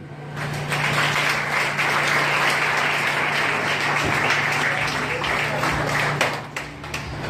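A congregation applauds at a church revival service, dense sustained clapping filling the room steadily for about six seconds before easing off, with a low hum underneath.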